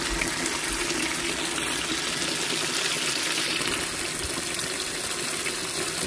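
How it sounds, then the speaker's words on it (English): Water drains from a well pressure tank out through a garden hose attached to a boiler drain, making a steady, continuous rushing gush that holds at an even level throughout, with no talking. "I'm gonna drain the tank. I'm using this garden hose I took to the boiler drain there."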